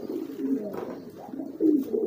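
Low, throaty pigeon squab cooing repeats in soft rolling phrases, close by, with a steady murmuring rhythm and no talking.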